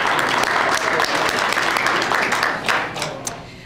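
An audience at a neighborhood honor roll ceremony keeps clapping, a loud continuous patter that thins and fades toward the end, with a few sharper claps standing out.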